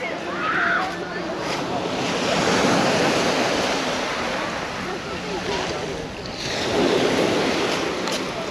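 Sea surf on the Black Sea beach at Lazarevskoye rolls in with a continuous close wash and hiss that swells and recedes, mixed with wind buffeting.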